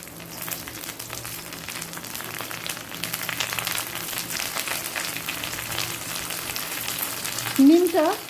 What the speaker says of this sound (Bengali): নিম পাতা ভেজে নেব